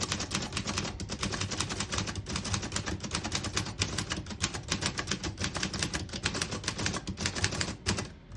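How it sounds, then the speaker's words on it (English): Rapid, even key strikes clack on a 1933 Underwood 4-Bank portable typewriter, a close, loud run of crisp mechanical taps lasting about eight seconds with no talking. "I'll type a sentence on the next line."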